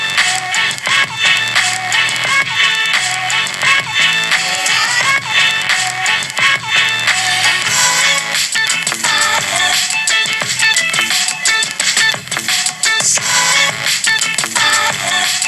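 Music with steady beat and dense full-range layers plays loudly and continuously from the speakers of a ROG Phone 9 Pro smartphone at high volume, with no talking over it.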